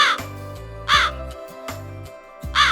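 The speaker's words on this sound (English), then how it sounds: "It is a crow." A crow gives three loud, harsh caws at a steady pace, clear and close against a soft musical background.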